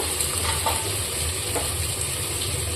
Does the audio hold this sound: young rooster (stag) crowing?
no